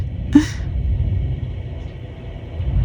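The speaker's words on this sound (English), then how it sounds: "It's starting to thunder here." Thunder from an approaching storm rumbles low and continuous in the distance, with one brief sharp sound near the start.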